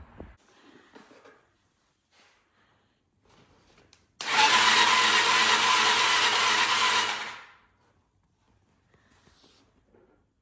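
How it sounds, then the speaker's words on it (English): A 110cc quad's motor cranking over with a suspected failing starter, a loud steady whirring burst of about three seconds that then winds down, with quiet handling sounds before and after. "I'll show a clip of the motor like cranking over a little bit here"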